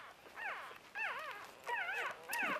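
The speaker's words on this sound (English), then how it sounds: "This is the blue puppy" A young puppy with a red straight coat whimpers and whines in a few rising-and-falling cries, close and clear, with short pauses between them.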